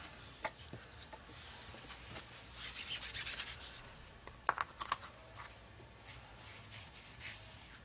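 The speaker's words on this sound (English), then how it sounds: "I'm going to dab some of that excess off so I don't have to wait forever for it to dry." Paper towels dab and rub excess paint off a painted surface, making soft, close, irregular scuffing and patting sounds, faint and scattered with brief louder taps.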